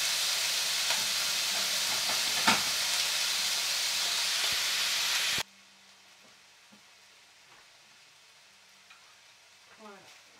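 Sausage and pumpkin pasta sauce sizzling and bubbling in a pan, a steady loud frying hiss for about five seconds that then drops abruptly to a quiet background with faint occasional pops and clinks.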